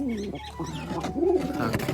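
A caged pair of pigeons coo softly and closely in a short burst, a low throaty rolling call repeated.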